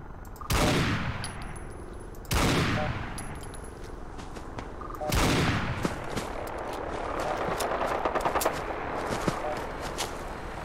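Three loud, booming gunshots ring out in Fallout 4, spaced a couple of seconds apart, each with a long echoing tail, followed by a burst of rapid, crackling automatic fire.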